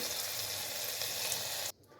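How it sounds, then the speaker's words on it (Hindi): Steady loud hiss of hot oil tempering with Kashmiri chili sizzling as it is poured into a pot of kadhi, continuing for a couple of seconds before cutting off abruptly. "कड़ी में तड़का डाल देंगे।"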